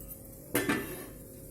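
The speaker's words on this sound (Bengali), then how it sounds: "গ্যাসে তাওয়া বসিয়ে দিয়েছি।" A metal tawa griddle set down on a gas stove, giving a loud clanking strike followed by a second softer clatter, close by with no talk.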